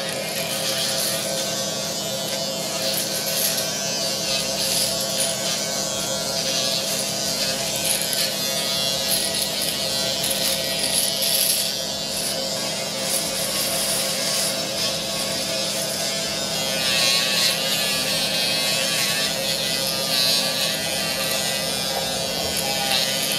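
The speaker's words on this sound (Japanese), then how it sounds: "今中華製のヒゲ剃りで電動シェーバーで剃った直後でござい" A Chinese-made YIERSAN electric shaver shaving, a loud continuous buzzing hum close up with slight rough shifts as it moves over stubble, running steadily the whole time.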